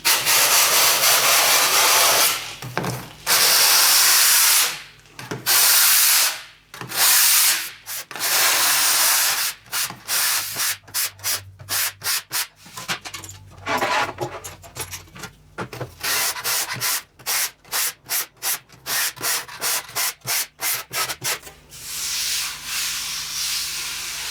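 An old handsaw rasps hard across a surface to roughen it before gluing, in loud close strokes: long continuous scraping at first, then a fast run of short choppy back-and-forth rubs, with no talking.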